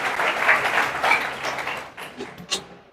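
Audience clapping at an RCM leaders' gathering in Khurja, a dense patter of applause that gradually thins and fades with a few last claps.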